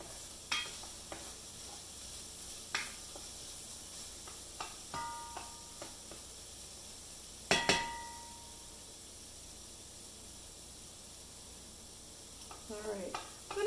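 Garlic and onions sizzle in a pan for a vegan bean chili, a quiet, steady hiss broken by occasional sharp clinks of a stirring utensil.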